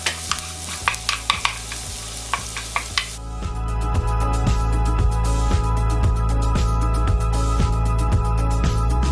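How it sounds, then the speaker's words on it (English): Onion and garlic sautéing in olive oil and butter for a pasta and chicken casserole: scattered stirring clinks at first, then a steady close sizzle of frying that fills the rest of the clip. "I use olive oil and about a tablespoon of butter to saute my onion and"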